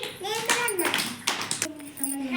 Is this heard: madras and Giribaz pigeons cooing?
no